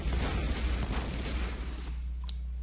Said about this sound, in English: Dude, what are the explosions?